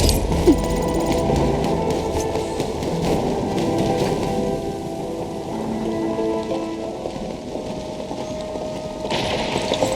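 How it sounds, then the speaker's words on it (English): Heavy rain pours steadily in Arknights Endfield, a dense, loud, unbroken downpour hiss that holds for the whole stretch with no speech. "It's raining harder. I can't hear anything except for the rain."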